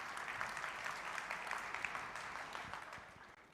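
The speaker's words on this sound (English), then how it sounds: "Please applause for the folks coming in." A conference audience applauds as speakers come back onto the stage at a Google AI event, giving a continuous, moderately distant round of clapping that fades slightly toward the end.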